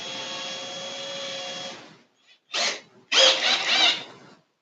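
A power drill bores into a guitar body during a build, first a steady whining spin for about two seconds, then silence, then two short, louder bursts of drilling close by.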